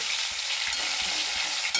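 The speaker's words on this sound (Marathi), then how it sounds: "त्याच्यामध्ये छान मस्त फोडणीमध्ये भाजून घ्यायचं आहे तेलामध्ये" Vigorous frying of tomato and green chili in hot oil, a dense crackling sizzle with a few soft stirring bumps, heard up close for a brief moment.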